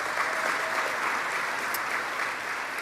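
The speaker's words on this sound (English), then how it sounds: "Give them a round of applause." An audience at a governor's announcement event bursts into applause, a dense steady wash of clapping lasting about three seconds with no voices over it.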